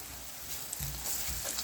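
Ginger garlic paste drops into hot ghee with browned onions, giving a soft steady sizzle that swells slightly as it hits the pan, faint and close with no talking.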